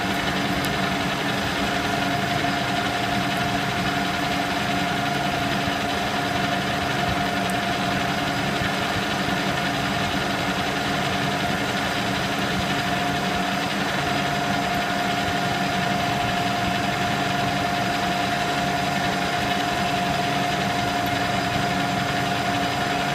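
A metal lathe spins at 710 RPM while turning a Troy-Bilt rototiller shaft, giving a steady, continuous machine drone with a sustained whine and a faint rattle throughout, with no talk.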